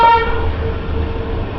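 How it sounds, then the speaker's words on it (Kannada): A train hauled by a WDG4 diesel locomotive sounds its horn loud and close at the start. The tone then fades into steady rumbling running noise near a hillside on the Davangere to Hosapete line. "ಇಲ್ಲಿದ್ದ ನಮ್ಮ ಟ್ರೈನ್ ಗುಡ್ಡದ ಪಕ್ಕಕ್ಕನ ಸುಂಟೈತಿ."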